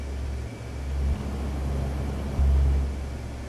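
A simulated C-130 Hercules rolls along the ground on damaged landing gear in DCS, its engines droning low and steady in a continuous rumble that swells briefly twice as the aircraft taxis.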